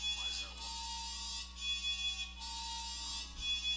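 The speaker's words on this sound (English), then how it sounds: "What's that sound? It's an alarm. It's meant to alarm you of something." An electronic alarm from the video game I Have No Mouth And I Must Scream drones steadily with a harsh buzzing tone and periodic pulses, playing alone at moderate loudness.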